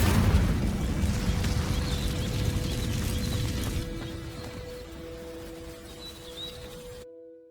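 Incendio fire spell from Hogwarts Legacy igniting dry vines: a loud, roaring whoosh of flame and rumble that slowly dies away over several seconds, with faint thin tones lingering near the end and no talking.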